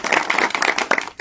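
A crowd at a public gathering about a closed cooperative sugar factory claps in welcome, a dense burst of close hand claps lasting about a second with no talking over it.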